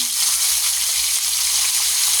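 Fish frying in shallow oil for escabeche, a constant bright sizzle and crackle from the pan, close and loud with no talking.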